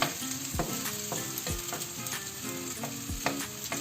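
Hash browns sizzle steadily in a hot pan, a continuous crackling fry with periodic scraping or spoon taps as the patties are shaped, close and alone with no talk.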